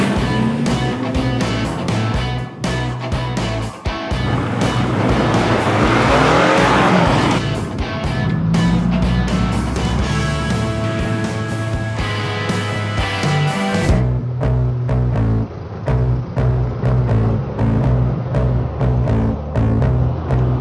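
A car on a frozen lake revs hard and accelerates, its loud engine roaring as the tires squeal and skid across the ice, then the engine settles into a lower idle rumble.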